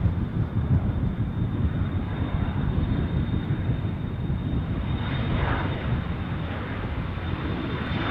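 A business jet rolls along the runway at Düsseldorf airport, its steady, loud engine roar continuous throughout with a broad rumbling tone and no voices.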